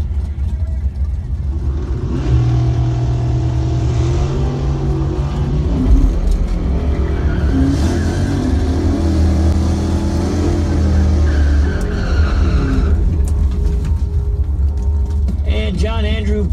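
Drag race cars, a 1973 Chevy pickup and a 1967 Camaro, launch with a loud, sustained engine roar that builds and fades, under steady announcer commentary.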